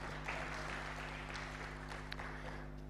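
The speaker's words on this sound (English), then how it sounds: "Let's clap for her." Moderate applause from an audience at a public leaders' alumni gathering, a fairly faint, steady clapping over a constant low electrical hum.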